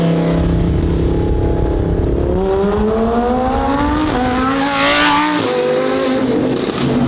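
A supercharged widebody Lamborghini at low speed, its engine loud and close, droning and rising in pitch through several gear changes, with a brief whooshing rev burst.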